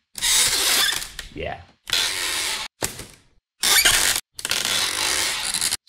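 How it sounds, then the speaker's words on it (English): An old trunk lid in a garage creaks and scrapes as it is opened and closed, several loud, close bursts of harsh grinding noise separated by short silences, with a brief spoken word in between. "I got a trunk in my garage. That sounds like this when I open and close."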